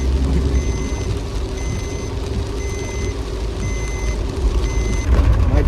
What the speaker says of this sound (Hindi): बहुत ट्रैफिक है